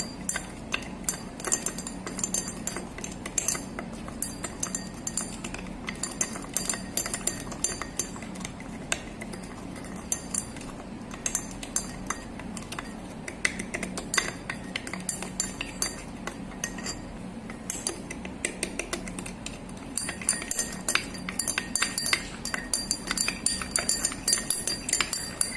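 A glass rod stirring sugar into a beaker of water, producing soft repeated clinks and taps against the glass, quiet and irregular throughout.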